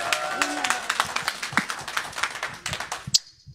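Scattered audience clapping in a Bengali-speaking gathering, a few quick irregular claps rather than a full ovation, fairly faint, with a sharp final clap near the end.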